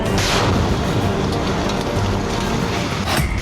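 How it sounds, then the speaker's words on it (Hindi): A four-storey building brought down by an explosive blast gives a dense, sustained roar of collapsing debris, loud and close, with a sharp hiss of rubble near the end. "एक धमाका और 4 मंजिला इमारत मलबा बन गई।"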